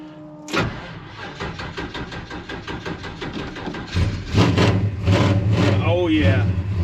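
A Ford F100 pickup with a two-pump setup cranks briefly, catches and settles into a rough, loud idle, engine rumble steady and close; a voice speaks over the start.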